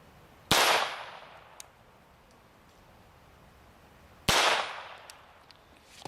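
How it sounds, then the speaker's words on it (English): Two .22 Long Rifle shots fired from a pistol at a titanium plate, each a sharp, loud crack with a ringing decay, spaced about four seconds apart, with quiet between them. "Starting it off right with a .22 long rifle out of this pistol."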